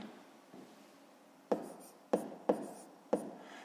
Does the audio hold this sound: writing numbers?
yes